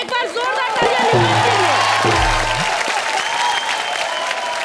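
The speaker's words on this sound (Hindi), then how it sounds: "एक बार जोरदार तालियां दीजिए।" Studio audience on a comedy show breaks into loud applause and cheering, a dense roar of clapping with crowd babble and a voice or two calling out over it, sustained throughout.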